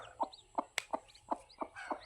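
A hen that has just hatched chicks clucks in a steady series of soft, evenly spaced calls about three per second, close and quiet, with faint peeping chicks.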